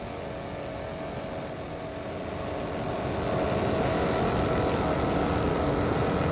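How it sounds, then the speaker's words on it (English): Offshore powerboats race at about 80 miles an hour during a New York City poker run, a broad, continuous engine roar that grows louder partway through and then holds steady. "Looks like the boats are getting up to about 80 miles an hour now."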